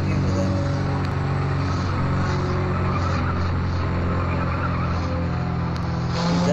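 An old-fashioned car with power steering runs in a car parking video game, its engine giving a steady, loud low drone throughout while someone talks over it.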